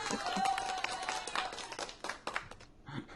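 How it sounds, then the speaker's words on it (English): A canned applause sound effect plays back, a short burst of scattered clapping and crowd noise that stays modest in level and thins out over about three seconds. "Let me play the applause."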